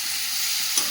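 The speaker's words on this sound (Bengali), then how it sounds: "সয়াবিন আর আলুটা খুব সুন্দর করে কষিয়ে নিয়েছি মশলার সঙ্গে।" Soybean chunks and potato sautéing with spices, a brief steady sizzle up close with a faint stir near the end.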